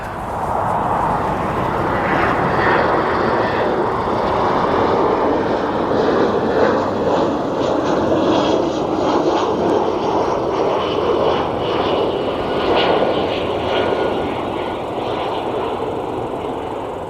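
EasyJet airliner passing at Aberdeen Airport, a steady broad engine roar that holds loud and even for the whole stretch, with no talk over it.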